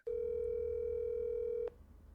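A single steady telephone dial tone sounds loudly for about a second and a half, then cuts off abruptly into quiet room noise.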